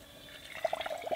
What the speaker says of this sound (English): So what I gotta do is pour water in here